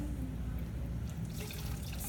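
Water runs and splashes steadily as a sponge is squeezed out, a continuous dense wash of liquid sound with no voices.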